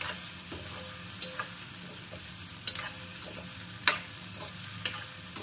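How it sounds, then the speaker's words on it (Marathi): Green peas frying in a pan for kande pohe, a steady close sizzle with small sharp pops and bursts scattered through it. "बघा इकडे छान फ्राय होत आहे, वटाणे फुटतात हे मटार"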